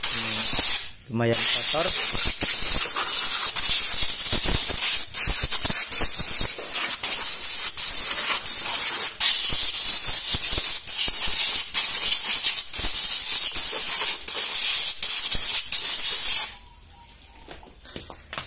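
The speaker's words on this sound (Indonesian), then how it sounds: "Kita semprot dulu." Cleaner sprays continuously onto the engine of a Yamaha Mio GT scooter, a loud, steady hiss held for about fifteen seconds and broken by short pauses, with brief talk at the start.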